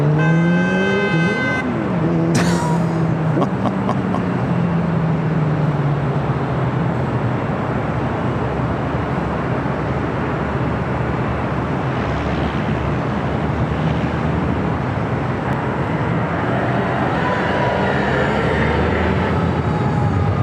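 An Asiana airliner taxis across runway 25 left at LAX, a continuous loud engine roar with a brief tonal sweep early on and a steady hiss throughout.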